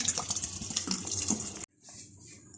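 Water pours from a tap into a pressure cooker holding washed mash lentils, a bright splashing gush that stops abruptly partway, followed by fainter trickles and drips.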